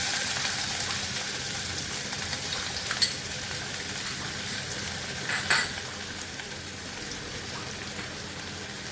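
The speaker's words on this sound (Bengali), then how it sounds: "এবার আমি পেঁয়াজ কুচি দিলাম" Chopped onion frying in a pan at home, a steady, close hiss of sizzling oil that runs unbroken, with a couple of faint clicks from the utensil.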